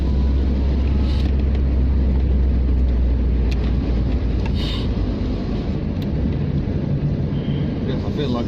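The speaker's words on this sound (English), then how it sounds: "I feel like I'm living the dream driving the Talbot Tagora around in the Netherlands" A Talbot Tagora 2.2 driven on roads in the Netherlands, its steady engine and road rumble filling the cabin at a constant loud level throughout.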